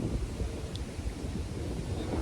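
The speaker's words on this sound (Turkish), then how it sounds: "Çok rüzgar vardı." Strong wind on the coast at Pamucak buffets the microphone in a constant low roar, with a faint wash of wavy sea underneath.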